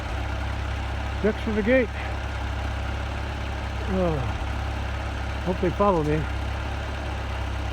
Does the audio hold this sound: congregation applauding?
no